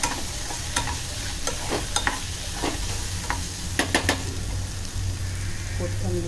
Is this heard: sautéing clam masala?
yes